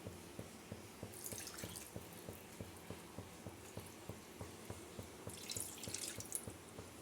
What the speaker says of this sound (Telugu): ఇప్పుడు ఈ బౌల్లో వాటర్ వేసుకుందామండి